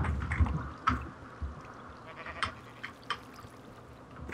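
Sheep in Minecraft bleat several times, short wavering calls scattered over a low steady background, moderately close and not loud.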